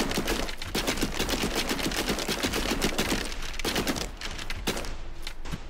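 A Gatling gun rattles off rapid automatic fire in Sons of the Forest, a loud and dense stream of bursts that runs nearly the whole time with only brief breaks.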